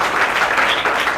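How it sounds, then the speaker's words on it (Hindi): Audience applause for Aryan at a church service, a steady wash of clapping from a crowd that holds evenly for the whole moment, loud and close with no voices over it. "मैं आर्यन के लिए ताली बजाना चाहता हूँ।"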